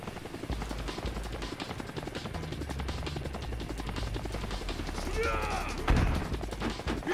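A helicopter roars loud and constant in the Infinite Wealth video game, with rotor chop and bursts of gunfire over it, and a sharp impact near the end.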